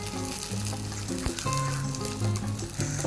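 Paratha bread frying in butter in a hot pan, a steady close sizzle with crackling pops and a few light clinks of a utensil, no talking.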